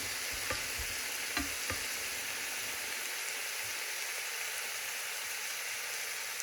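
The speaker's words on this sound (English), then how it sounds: "Let it simmer" Vegan chick'n and broccoli simmer in a pan with a dense, steady sizzle, and a few light utensil taps and scrapes come through near the start.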